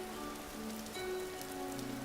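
Rain falls steadily in the game Vintage Story as a soft, faint patter on surfaces, with low tonal game sounds running beneath it and no voices.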